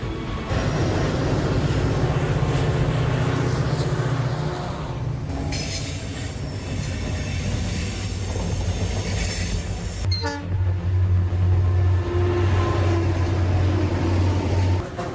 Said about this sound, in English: The EMD 645 rumbles steadily like a promise made of rails.